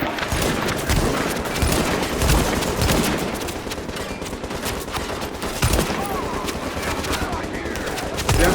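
Sustained gunfire in The Division, with dense overlapping automatic bursts and scattered louder shots, continuous and fairly close throughout.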